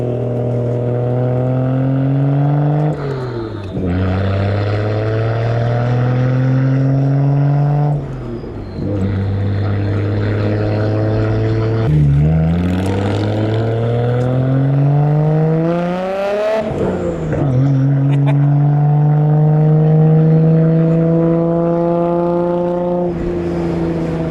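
A Nissan Skyline R32 GTR engine climbs through several strong acceleration runs, its loud rising drone dropping sharply at each gear change before building again, close and steady throughout.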